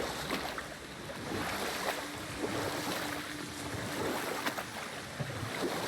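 Sea waves washing in a video game, God of War (2018), a steady broad wash of surf with wind, continuous and fairly full, with no voices.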